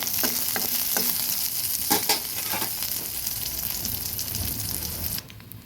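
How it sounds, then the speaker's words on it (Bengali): Garlic cloves frying in a kadai alongside dried red chillies, a loud crackling sizzle broken by a few sharp stirring scrapes, dropping away abruptly near the end. "শুকনো লঙ্কা ভাজা কড়াইটার মধ্যেই আমি দিয়ে দিচ্ছি কয়েকটা রসুনগুলো টেলে নেব।"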